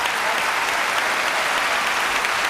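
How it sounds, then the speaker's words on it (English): Steady crowd applause fills a packed arena at the 2018 Japan Open table tennis final between Ito Mima and Wang Manyu, a dense, continuous clapping with no break. "the crowd once again reminding Ito where she is"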